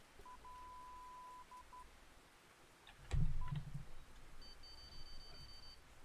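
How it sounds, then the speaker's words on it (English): Electronic bite alarms in the fishing game Russian Fishing 4 emit short tonal beeps, a held tone early on followed by a brief burst of quick bleeps and a higher steady tone, faint over a low background. "These bite alarms are so cool."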